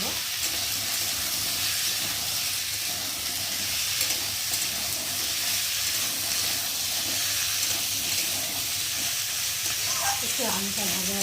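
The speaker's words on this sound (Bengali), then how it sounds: "পেঁয়াজের মধ্যে আলুগুলো দিয়ে নেবো। আলুটা ভালো করে একটু নাড়াচাড়া করে নেব।" Potatoes stirred into onions sizzle and fry steadily in a pan, a constant hiss with soft scraping of the spatula throughout, and a brief clatter near the end.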